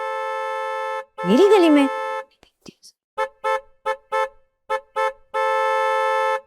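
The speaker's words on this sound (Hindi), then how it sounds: "इतने ऊंचे हॉर्न" Loud vehicle horn blaring in a street, a long steady blast followed by a rapid run of short honks and another sustained blast, with someone speaking over it between honks.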